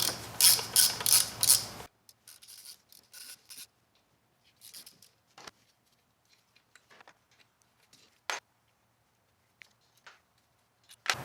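A ratchet clicks in fast bursts while loosening 5/16 bolts on the intake of a Ford 4.0 V6, loud rapid ratcheting at first, then sparse quiet clicks, scrapes and a few sharp metallic taps close by.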